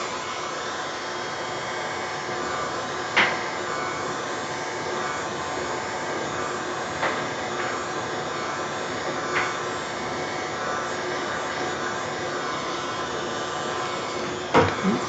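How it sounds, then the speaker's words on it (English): Air blower pushing paint across a swirling-clouds seascape pour, a steady loud broadband hiss held nearly unbroken for the whole stretch, with a few faint clicks and bumps near the end. "but I'm going to try the blower."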